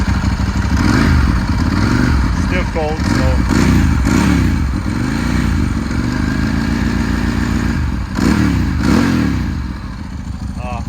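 A Ducati 916 Monoposto motorcycle engine revs up and down repeatedly, loud and close, with a voice speaking briefly over the rumble.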